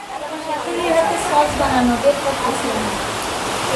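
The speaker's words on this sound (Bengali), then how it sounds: "বাইরে অনেক বৃষ্টি হচ্ছে" Heavy rain falls outside as a steady hiss, with people talking close by over it.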